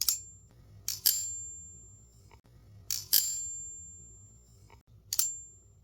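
A folding pocket knife with an M390 blade and freshly tightened body screws rings out in three separate metallic tings, each a bright sustained tone that decays slowly over about two seconds, heard alone.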